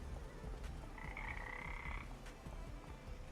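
Frogs croak beside a small pond with a trickling waterfall in Farming Simulator 25, one steady, buzzing croak of about a second rising over soft, continuous water ambience.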